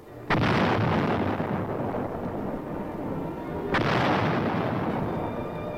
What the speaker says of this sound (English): 155 howitzers fire a sharp warning at the advancing Chinese